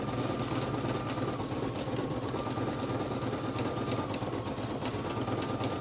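An embroidery machine stitching a wallet with variegated thread, a steady rapid mechanical hum and clatter running unbroken and close, with no talk.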